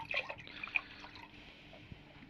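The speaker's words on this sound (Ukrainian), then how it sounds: "Миколай наливає 100 грам. 400 грам оцету" Vinegar pours into a jar for pickled cucumbers, a faint liquid trickle with a few small splashes and drips near the start, then a quieter continuous flow, close but soft.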